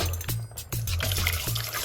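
Hot water being poured to make tea, a close liquid splashing and trickling stream broken into several short bursts with brief gaps between them, alone, without talk.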